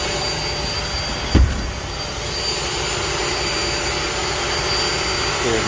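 A Bissell Pro Pet carpet cleaner suctioning wet car upholstery to lift chocolate: a loud, steady, close vacuum roar with a high whine, broken only by a single thump early on.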